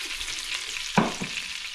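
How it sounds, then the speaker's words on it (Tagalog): Shrimp frying in a pan while pancit is being cooked, giving a steady crackling sizzle with a brief louder clatter partway through, close and fairly quiet, with no voices. "prito din natin yung ating hipon"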